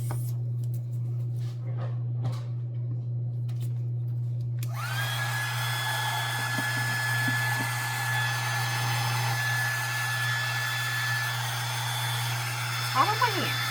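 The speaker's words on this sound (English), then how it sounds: "then I'm going to take the heat gun to blow it off" Heat gun blowing steadily over resin-coated wood decor, a constant whirring hum that rises into a higher whine partway through and stays close and even, with faint handling noises.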